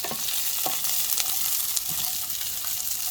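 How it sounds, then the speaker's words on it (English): Onions frying in a pan for palak paneer give a dense, steady close-up sizzle, broken by occasional light scrapes of stirring. "So get your onions up in there. Put them all in there. And then you want to keep on stirring these until they get slightly translucent."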